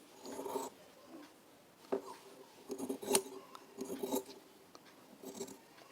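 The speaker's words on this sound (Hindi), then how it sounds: "एक बराबर मार्जिन छांट लें।" Scissors trim a fabric seam margin with a handful of soft, close snipping and rasping cuts, quiet and irregular, with no talk.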